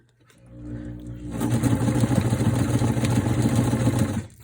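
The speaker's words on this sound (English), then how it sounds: "You're just going to edge stitch it closed about 1/8 of an inch from that double folded edge." Sewing machine edge stitching a double-folded fabric strip for mask ties, starting after a quiet second and running as a steady, close mechanical whir and rapid clatter to the end.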